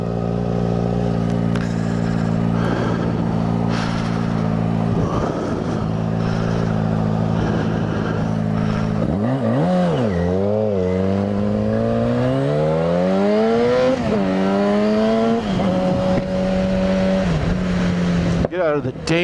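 Yamaha FZ6R motorcycle on a cold commute, steady engine drone that then revs hard through repeated gear shifts with climbing pitch, close and loud under wind noise.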